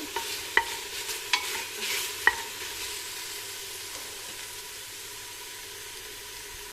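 Cubed beef sizzles steadily in cooking oil in a pan while a spoon stirs, scraping sharply a few times early on before settling into a constant fry; near and moderately loud, with no voices.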